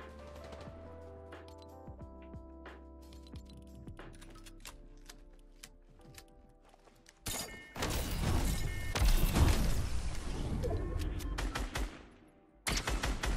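Video game gunfire from Fortnite or COD Zombies: sparse clicks and shots at first, then a loud sustained burst of rapid automatic fire, a pause, and another sharp volley.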